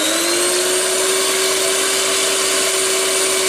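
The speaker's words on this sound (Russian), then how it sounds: "Вот он наш миксер." An electric mixer whipping egg whites with a pinch of salt gives a steady, loud, continuous motor whine that holds at one pitch, close and uninterrupted.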